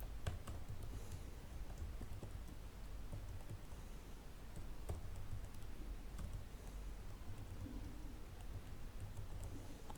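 Soft, steady typing on a computer keyboard as code is written, a faint continuous patter of key clicks with no talk.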